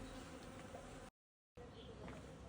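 A steady, dense buzz of many bees drinking close by in the village of El Acebuchal, cut by a short silent gap midway.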